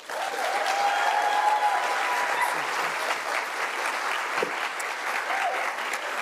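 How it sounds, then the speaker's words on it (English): A ceremony audience applauds steadily at a literary award event, a full, continuous wash of clapping from many hands that holds evenly for several seconds. "So I love the applause"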